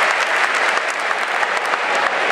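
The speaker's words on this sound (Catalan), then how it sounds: "Un aplaudiment per a tots els integrants d'aquesta meravellosa colla" A loud, dense roar of applause fills a basketball arena for a muixeranga human-tower troupe from Algemesí, continuous clapping throughout with no talking over it.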